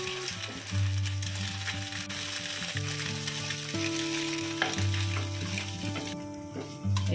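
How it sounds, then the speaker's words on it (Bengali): An egg frying in oil in a pan, a gentle steady sizzle heard beneath prominent background music throughout. "ডিমটা ভেজে নেব।"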